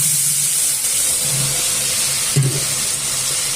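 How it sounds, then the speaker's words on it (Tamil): Onions for vegetable biryani sizzle in hot oil, a steady close hiss with a brief clink partway through. "வெங்காயம் நல்லா எண்ணெயில் வதங்கணும்"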